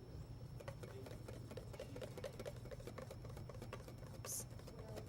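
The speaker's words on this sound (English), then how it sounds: "whisk briskly." Hollandaise sauce being whisked briskly by hand, a steady fast rhythm of wire tines ticking against the bowl over a constant low background hum, close and moderately loud.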